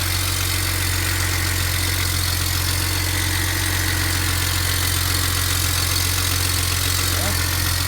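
A BMW 335i with the N54 engine idles steadily just after its turbochargers were replaced, a continuous low hum with mechanical vibration that stays close and even throughout.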